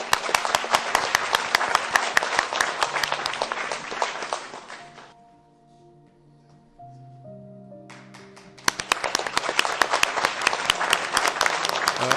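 Loud, dense audience applause for a performer at a televised stage show marking the 58th PTV anniversary fills the hall, breaks off for a short musical interlude, then surges back just as strongly.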